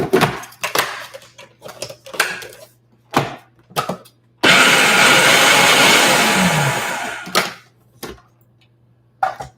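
A food processor spins pie crust ingredients with added sugar and salt in one loud, steady whir of about three seconds, its motor winding down at the end, set between quieter clicks and handling noises.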